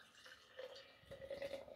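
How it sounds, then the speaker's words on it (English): A fruity orange and peach Asian snack drink being poured out, a soft trickling, splashing stream of liquid that runs steadily for a couple of seconds, quiet and close. "Let me pour this out."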